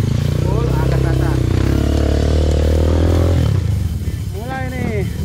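A trail motorcycle revving hard as the clutch is let out on an off-road track, its engine a loud, steady roar that dies down near the end while someone talks over it.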